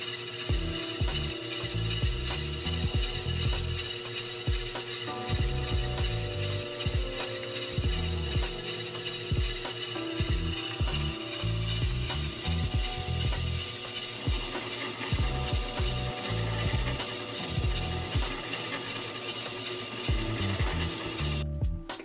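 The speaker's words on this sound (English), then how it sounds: "Here I'm final polishing the table." A faceting machine doing the final polish on the table of a synthetic ruby gives a continuous close mechanical hum with a busy, rhythmic ratcheting clatter that runs without pause.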